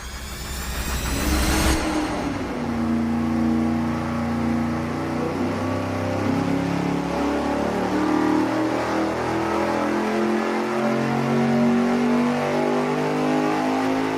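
An engine fitted with a ProCharger centrifugal blower running hard on a dyno: a brief sharp blast, then a loud, sustained, steady roar with strong droning harmonics, close and unbroken by voices.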